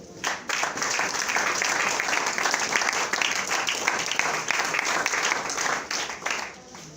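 A church congregation claps in acclamation of the Lord, sustained dense applause from many people that swells quickly and fades out after several seconds.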